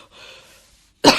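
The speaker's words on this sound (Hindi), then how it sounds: "जोर से खांसने भी लगी।" A woman's hard, harsh cough bursts out once near the end, loud and close, after a stretch of faint breathy noise.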